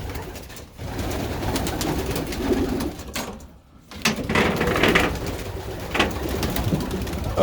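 Pigeons in a loft give soft, repeated throaty coos that overlap a constant close rustle of birds moving and pecking at corn feed, with no talking.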